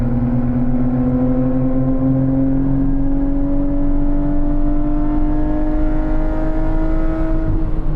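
A Nissan GT-R R32 with an aftermarket exhaust drones loudly as its engine note climbs steadily in pitch over several seconds, a smooth continuous rev with no pauses.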